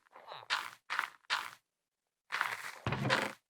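A Minecraft composter composting potatoes into bone meal gives a run of about five short, crunchy, rustling bursts separated by brief gaps, close and fairly quiet.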